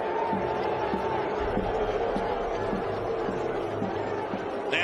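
Brickyard Battalion supporters roar steadily in a stadium after an Indy Eleven goal, a continuous crowd din with rhythmic chanting pulses and a commentator speaking over it.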